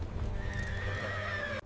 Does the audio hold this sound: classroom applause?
no